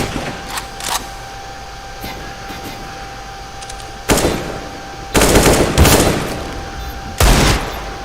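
Sharp, loud rifle reports from a sniper and an AK in a CS:GO match stand out over a faint background, with one short volley early and several heavier bursts near the end.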